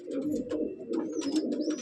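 Red Jiriya pigeons cooing at a loft in Park Circus, with soft repeated low coos running continuously alongside faint higher chirps and rustling nearby.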